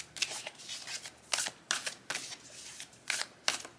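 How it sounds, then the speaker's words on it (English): Oracle cards are riffled and shuffled by hand, with several crisp, close bursts of flicking cards coming in uneven rhythm amid quiet pauses. "while I'm shuffling the cards"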